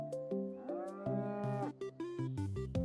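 A differently colored cow in a video game lets out a loud, drawn-out moo with a wavering pitch, set against bright, plinking game music.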